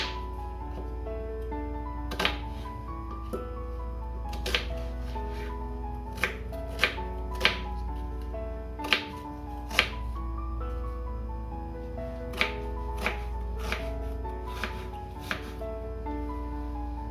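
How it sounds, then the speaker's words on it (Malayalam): Knife chopping green chillies into small squares on a cutting board, a dozen or so sharp, distinct chops spaced irregularly over a low steady kitchen hum, for a bitter gourd thoran. "പിന്നെ നമ്മുടെ പാകത്തിന് എരിവിനുള്ള പച്ചമുളകും. ഇതും കൂടെ ഒന്ന് ചതുരത്തിൽ മുറിച്ചെടുക്കാം"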